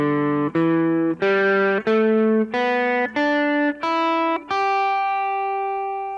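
A guitar plays the first pentatonic scale pattern, eight clear single notes stepping evenly upward, each plucked distinctly, the last note left ringing and decaying; no talk.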